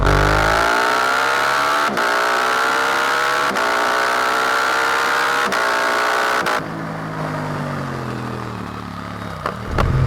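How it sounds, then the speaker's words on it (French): A Suzuki GSX-8R motorcycle engine revs hard and climbs in pitch, broken by several quick, sharp quickshifter gear shifts at regular intervals, then eases off near the end. "J'adore le son du passage de shifter."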